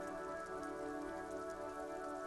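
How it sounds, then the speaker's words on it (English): Steady rain drumming on the roof of a woodshed in the video game Disco Elysium, a continuous, even patter with a faint tonal hum underneath and no voices. "Rain falls onto the roof of a woodshed."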